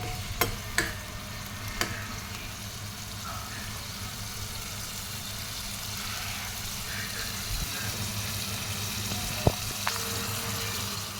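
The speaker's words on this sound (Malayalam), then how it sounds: "ഇനി നമുക്ക് ഉള്ളിയും കരിവേപ്പിലും ഒന്ന് വറുത്ത് നമ്മൾ അതൊക്കെ മിക്സാക്കി കൊടുക്കാം." Onions fry in a pan for fish curry, a soft steady sizzle under a low background hum, with a few brief clinks and scrapes of stirring.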